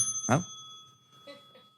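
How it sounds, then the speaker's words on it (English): A single bright bicycle-style bell rung during a podcast conversation gives one sharp ring near the start, followed by a faint softer ring, with quiet room tone and no talk over it. "You didn't ring the bell that time."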